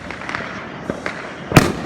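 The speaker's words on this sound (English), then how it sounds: "My dad is lighting up some more fireworks." Backyard Fourth of July fireworks go off nearby, with a few scattered pops and crackles followed by one sharp, loud bang near the end.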